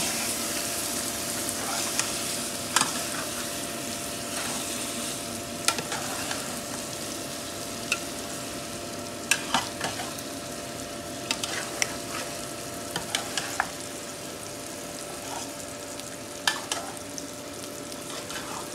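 Pieces of duck meat hit a hot pan over browned onions for a curry and sizzle steadily, with occasional sharp clinks of a spoon or spatula stirring through the constant frying hiss.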